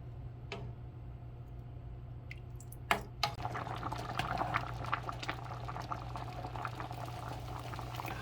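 Sago pearls in a pot of water boiling after half an hour of cooking, a steady bubbling simmer with small pops and drips, close and continuous, with a couple of sharper clinks near the start.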